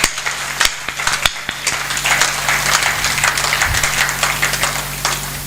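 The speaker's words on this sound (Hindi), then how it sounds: "अब रोक कर दिखाना, रोकना तालियों को।" Audience at a patriotic Hindi poetry recital breaking into dense, sustained applause, loud and close, with a few sharp claps standing out at the start.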